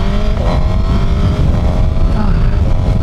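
A 2027 Suzuki GSX-R1000 engine on the move, a loud, steady, close roar with slight rises in pitch, heard alone without talk.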